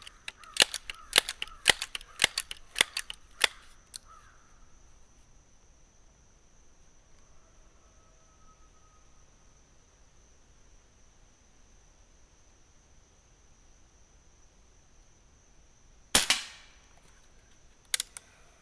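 A Crosman 1322 air pistol fires pellets at a target: a quick run of about ten sharp cracks close by, then a long quiet gap before two more loud shots near the end.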